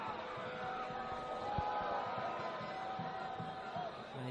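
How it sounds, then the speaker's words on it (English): Crowd noise from the Preston Lions faithful at a National Premier League Victoria football match against South Melbourne, a steady mid-distance murmur and cheer of spectators welcoming back player Bell, with voices blended throughout. "Bell has returned to action, greeted by a warm cheer from the Preston faithful."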